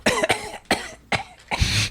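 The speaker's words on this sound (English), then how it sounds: "That's me really coughing." Four harsh coughs in a row, close and loud, each a sharp burst with brief pauses between.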